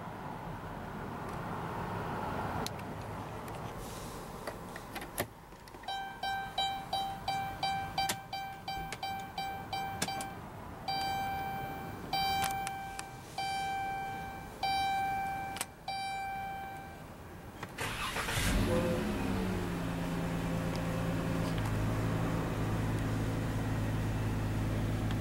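A 2016 Chrysler Town & Country Touring minivan sits with its interior warning chimes beeping in a steady pattern, then its engine cranks and catches with a sudden low rumble before settling into a steady close idle. No one speaks.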